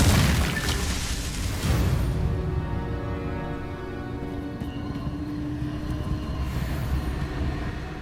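Confringo spell explosion in the game Hogwarts Legacy, a loud blast at the start that rolls into a sustained low rumble and roar lasting several seconds, with no talking.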